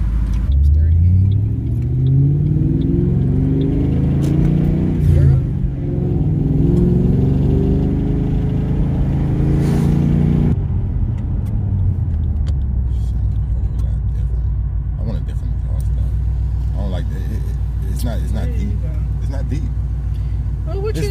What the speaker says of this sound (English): It's deep, but it sounds like I have an X pipe on it.